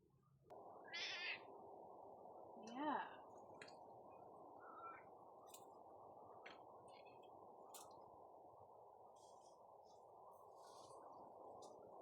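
A cat meows once close by, a short clear call and a quieter second sound, over a steady low background hum outdoors in a cottage garden.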